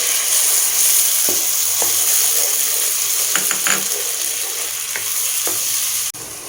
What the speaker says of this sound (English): Now I am adding tomato puree.